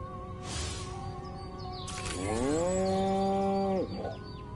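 A cow gives a long, loud, drawn-out moo in the 2020 video game Destroy All Humans!, heard alone with faint farm ambience and a brief bird chirp.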